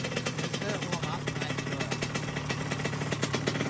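1991 Kawasaki KX80 two-stroke dirt bike running right after a fully cold start, a steady buzzing, rattling engine drone at moderate revs that continues throughout, with a voice talking over it.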